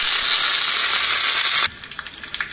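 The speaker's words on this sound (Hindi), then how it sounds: "ये जो तेल है ना वो गर्म हो गया है, इसमें हमने डाल दिया है राई तड़कने के लिए" Hot oil sizzles loudly for a moment, then drops to sparse, sharp crackles and pops of mustard seeds spluttering in the pan.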